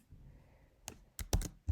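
Keystrokes on a computer keyboard: a sparse, quiet run of clicks, a single tap followed by a quick cluster of three or four keys and one more near the end, close and without talk.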